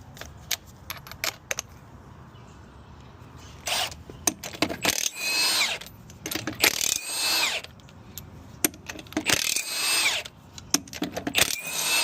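A power tool working on the wheel of a Chevy Silverado with a custom Dana 60 axle, heard as several whirring, rising bursts with quieter mechanical clicks and clanks between them, fairly close.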